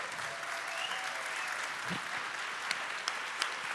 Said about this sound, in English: please give a warm round of applause to our new family member